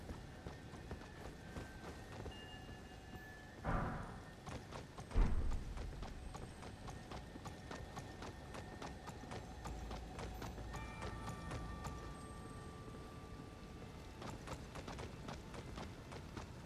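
Rapid horse hoofbeats in the video game Elden Ring clatter in a steady galloping rhythm at moderate volume, broken by a couple of sharper thuds partway through.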